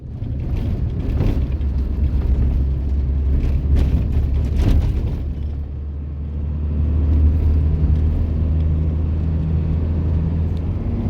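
A converted camper truck rolling along a road in Morocco, a steady low engine and road rumble heard from inside the cab, swelling and easing slightly with no voices.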